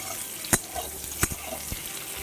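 Eggs fry in oil in a home kitchen for an egg curry, a soft low sizzle running throughout. A few sharp spits and pops punctuate it.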